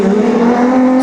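Race cars run side by side down the back straight during a championship race, their engines a loud, steady, close droning roar that holds for about a second with no voices over it.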